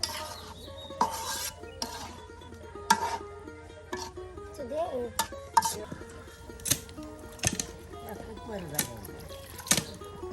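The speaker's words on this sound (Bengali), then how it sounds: "এই যে এখন আপনার সকল প্রকারের বাটা মশলা তার সাথে গুঁড়া মশলা কাঁচামরিচ কুচি একসাথে দিয়ে আর এটাকে বেশ কিছু সময় কষানো হবে" Chicken being sautéed with ground spice paste, powdered spices and chopped green chilli in a village kitchen, with scattered scraping and stirring strokes against the pot, intermittent and close, under a steady low hum and occasional speech.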